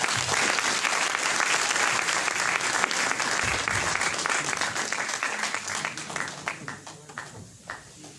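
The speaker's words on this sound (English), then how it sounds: "kindly welcome her with a big round of applause" An audience at a university event gives a sustained round of applause to welcome the chief guest. The dense clapping stays strong, then thins into scattered claps toward the end.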